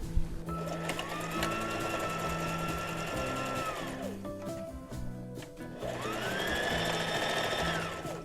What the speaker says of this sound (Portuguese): agora a gente vai à máquina fechar essa parte